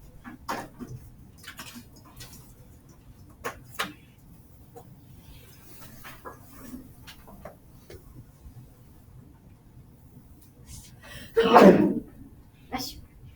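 A single sharp sneeze breaks out near the end of a quiet classroom stretch, after scattered faint ticks and soft room noise.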